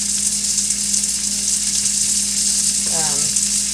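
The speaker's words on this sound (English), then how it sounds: "we're going to add the tomatoes, and we're going to add them now" Tomatoes hitting a hot pan of butter, giving a loud, steady, close sizzle that holds evenly throughout with a brief scrape near the end.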